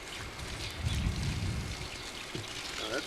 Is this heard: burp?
no